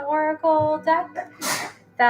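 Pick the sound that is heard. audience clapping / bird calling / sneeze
sneeze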